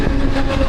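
A Mumbai local train gives off a steady, loud rumble with faint rail clatter in one brief unbroken stretch.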